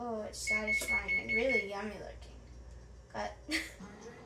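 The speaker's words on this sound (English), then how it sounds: "The buzzer just went off" An oven timer buzzer gives a thin, steady tone in a home kitchen, partly masked by someone talking over it.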